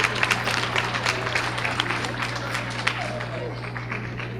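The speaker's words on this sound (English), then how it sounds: "Let's give them a round of applause again." Audience applause at a 2018 awards ceremony, a dense burst of clapping from a seated crowd that holds steady and then eases slightly, with a low hum under it.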